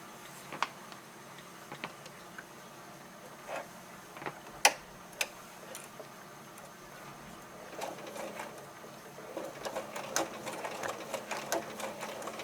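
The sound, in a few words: sewing machine stitching around top of doll backpack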